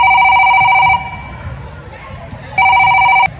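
Loud electronic phone ringtone with a repeating tonal trill plays in two bursts separated by a pause, close and clear, with background chatter murmuring in between.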